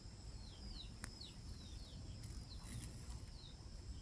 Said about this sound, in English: Chicks chirp away.